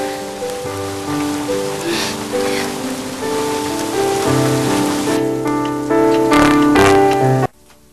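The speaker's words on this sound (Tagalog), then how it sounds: "umuulan" Steady rain pours down outside a family home, a broad hiss of falling water that continues under a swelling background music score before cutting off abruptly at the end.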